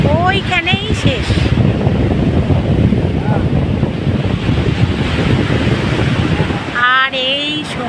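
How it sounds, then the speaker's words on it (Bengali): Sea surf rolls steadily at Puri beach, a dense, continuous wash of breaking waves with wind buffeting the microphone, while a person talks briefly at the start and again near the end. "আর এই সমুদ্র।"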